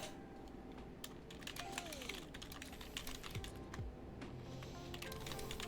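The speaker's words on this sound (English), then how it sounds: "I'm typing a command right now" Keys clack on a computer keyboard as a command is typed, a quick irregular run of close, light clicks with brief pauses over a steady low hum from the PC, with no voices.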